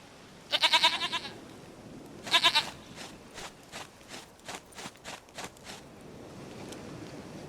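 In Witcher 3, a goat gives two loud close bleats in quick succession, then a run of soft rhythmic thuds like hooves stepping over a low ambient background.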